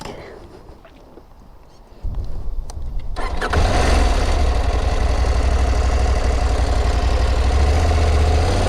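A 2021 KTM 890 Adventure motorcycle cranks briefly, fires up and settles into a loud, close, steady idle with a deep rumbling thrum that continues without interruption.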